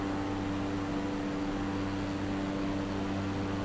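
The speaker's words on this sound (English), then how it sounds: "I don't know what this plane's doing, it's just still launching into the air." A plane climbing into the air after takeoff near Oyster Cove, Tasmania, makes a steady, loud, continuous engine roar with a droning hum that holds evenly throughout, with no talking.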